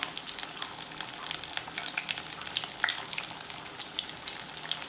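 Aloo tikki potato patties fry in oil with a soft, continuous crackle and bubbling, dotted with brighter pops, fairly quiet and with no voices over it.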